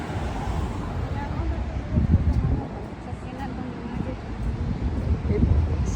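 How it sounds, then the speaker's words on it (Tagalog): Strong outdoor wind roars and buffets the microphone in a steady, loud low rumble with gusts swelling and easing over several seconds. "Ang lakas ng hangin, guys."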